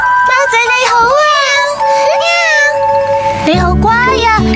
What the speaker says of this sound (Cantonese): 貓仔，貓仔，你喺邊啊？